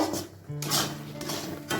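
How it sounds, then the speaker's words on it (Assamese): Grated coconut is fried and stirred in a pan for coconut semolina laddu, heard as a few short, close scraping and rubbing strokes of a spoon against the pan. "এতিয়া মই নাৰিকলখিনি ভাজি আছোঁ।"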